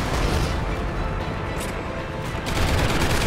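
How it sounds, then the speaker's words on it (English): Rapid, continuous automatic fire from a sentry gun in a shooter game, a dense loud clatter of shots that swells again near the end. "Sentry gun ready to roll."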